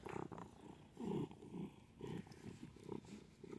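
Pet cat purring very close to the microphone, a soft low rhythmic rumble pulsing in steady breaths, quiet and alone with no talk.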